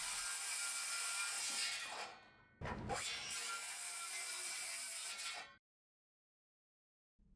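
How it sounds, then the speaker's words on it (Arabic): A disc saw bites through the excess wood of a pallet in two loud, rasping bursts of cutting separated by a short break, then stops abruptly and leaves near-silence. "ونبدأ نشيل الزيادات بمنشار"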